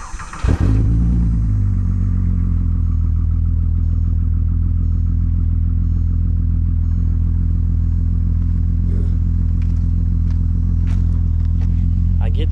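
A VR6 wagon's engine cranks and catches, then settles into a steady, loud, low idle hum that runs continuously with faint clatter and no talking.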